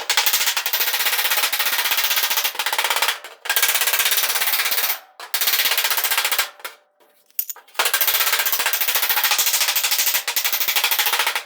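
Rapid hammer blows glance off a sheet metal body panel while a custom gas filler opening is shaped on a 1940 Ford-inspired hardtop coupe. Loud, close bursts of fast metallic strikes are broken by short pauses.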